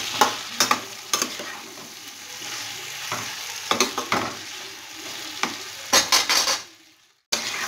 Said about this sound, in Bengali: বেগুন দিয়ে আমি আরও 3 থেকে 4 মিনিট ঢাকা দিয়ে কষিয়ে নেব।